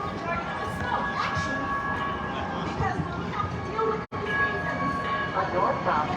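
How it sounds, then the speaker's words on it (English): A northbound Green Line light rail train arrives at a Minneapolis station, a loud rolling rumble with a public announcement voice over a busy platform and crowd noise. "A northbound Green Line train to downtown Minneapolis is arriving on track number 1"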